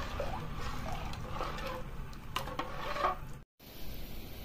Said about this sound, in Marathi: त्यामुळे हलवत ठेवायची आणि एक उकळी काढून घ्यायची पाकाला